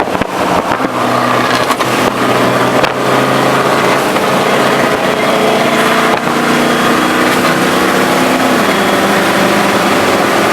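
A car pulling up with its engine running gives a loud, steady, close engine drone with a low hum and some harmonic whine that shifts slightly in pitch, holding throughout with no break.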